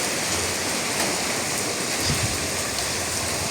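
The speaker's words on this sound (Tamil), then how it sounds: "சரியான மழை தானே." Heavy, steady rain pours down continuously, a dense close hiss across the whole stretch, with no talking over it.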